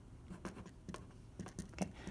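Someone writing an equation on a classroom board during a pre-calculus lesson: a few short, scratchy strokes in separate bursts, faint and close, with no talking.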